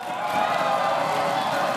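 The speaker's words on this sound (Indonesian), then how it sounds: "Boleh berikan tepuk tangan untuk para tim ses kita ini dari para pendukung." Supporters applaud and cheer at a televised debate between Jakarta gubernatorial candidates; a dense, steady wash of clapping from a crowd fills the whole moment at moderate loudness.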